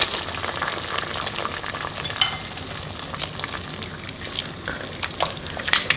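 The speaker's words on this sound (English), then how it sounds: "Okay, so the water is boiling. So now I'm going to put the pasta in the water." Homemade pasta cooking in a pot of boiling water, a soft continuous bubbling and sizzling hiss with scattered small pops and splashes, fairly quiet and with no talking.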